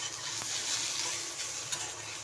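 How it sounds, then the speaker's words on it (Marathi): Tomato added to onion and grated coconut roasting in a pan sizzles steadily and close, with faint stirring clicks over the hiss. "आता हा टोमॅटो टाकते त्याच्यामध्ये."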